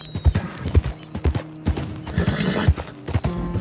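A horse in Red Dead Redemption 2 clip-clops in an irregular rhythm of close, distinct hoofbeats, and a neigh breaks in partway through along with faint mechanical clicks.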